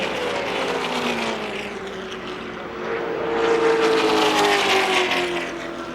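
At the 2001 Pepsi 400 NASCAR race, a stock car has hit the wall off turn 4 and grinds to a stop, buried in a loud, continuous roar of racing engines that swells in the second half.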